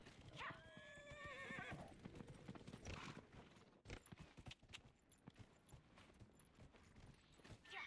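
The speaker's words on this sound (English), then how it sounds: "You wish you were a horse in Skyrim." A horse in Skyrim lets out a loud, close whinny, followed by steady clip-clop hoofbeats on the ground that continue for several seconds, with a few scuffing steps mixed in.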